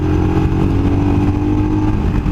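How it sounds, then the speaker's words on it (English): Royal Enfield motorcycle engine running steadily on a mountain ride, a loud, close, continuous low thumping drone with a slight revving rise and fall throughout, no voices. "Up to 80, braking, engine braking, kick it over again."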